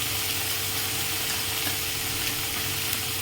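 Onion and ginger paste frying with cumin powder for a Bengali doi katla, an even, close sizzle with light stirring that continues briefly without speech.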